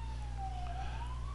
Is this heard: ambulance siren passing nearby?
yes